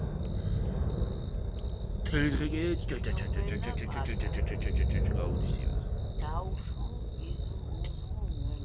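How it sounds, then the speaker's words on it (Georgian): Crickets chirp steadily at night as a thin, continuous high trill, with people talking over them throughout. "ჭრიჭინის ხმა ხო გიყვართ?"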